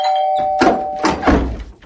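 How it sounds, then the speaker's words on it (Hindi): A doorbell at a friend's flat on the sixteenth floor of a haunted Mumbai apartment building rings in a horror story, with a steady tone followed by several close, fairly loud bursts. "सामने ही अपने दोस्त के घर की घंटी बजाने लगा"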